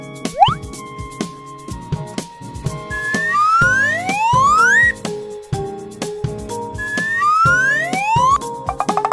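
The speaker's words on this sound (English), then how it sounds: "Ambulance." An ambulance siren wails in rising and falling electronic sweeps among other cartoon truck sounds, with plops and short effects between the sweeps, clear and fairly loud with no talking.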